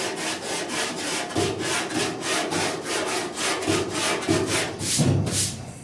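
Block sanding of body filler over epoxy primer on the dash of a 1966 Ford F100, steady rhythmic back-and-forth rasping strokes, close and fairly loud, with no talk.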